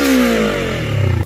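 A Vogue 500 motorcycle's 494cc parallel-twin engine, with dual overhead cams, 8 valves and a 180-degree crank, revs loudly up close, its throttle blip rising and then settling back with a throbbing, pulsing note.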